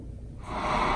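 A steady rush of airflow from a CPAP machine running on a FlashFish 300W portable power station starts quietly and grows louder after a brief near-silent moment.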